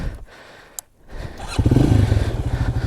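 A Loncin Voge LX300GY motorcycle engine cranks with a brief click, then catches and settles into a loud, close, pulsing idle that continues steadily to the end.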